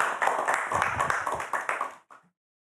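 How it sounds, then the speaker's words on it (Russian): A studio audience on a Gomel evening TV show applauds a guest, the region's chief allergist. Brisk, close clapping runs for about two seconds, then breaks off abruptly with a few last claps. "Эти аплодисменты вам."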